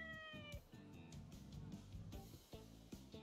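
A cat in the video game Like a Dragon: Ishin! lets out one short meow near the start, then in-game music with a plucked, rhythmic beat and soft percussive hits carries on at low volume.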